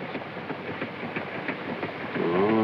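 A 1940s passenger train running on rails, heard from inside as a steady low rumble with faint rhythmic clatter, fairly loud and constant, swelling slightly toward the end.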